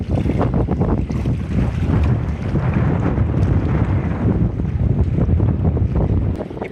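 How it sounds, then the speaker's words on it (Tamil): Strong wind roars steadily by the sea on Karainagar island near Jaffna, buffeting the microphone in a loud continuous rush, with waves faintly beneath it and no talking. "பாருங்க, காற்றடிக்குது, சரியான காற்றடிக்குது."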